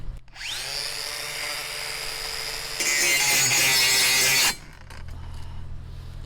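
A cordless 1.5 kW WVB 18 LTX BL 15-125 Quick angle grinder spins up to a steady whine, grinds harshly as its disc is jammed into metal for a couple of seconds, then abruptly cuts out as its electronics trip.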